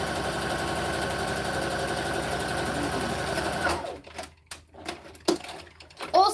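Sewing machine top stitching quilting cotton with no interfacing, a loud, steady, fast mechanical whir for about four seconds, then it stops, leaving a few clicks and handling knocks.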